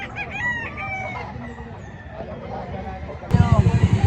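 A rooster crows loudly and close at a poultry market in Lipa, Batangas, with the call breaking out near the end after a stretch of people talking.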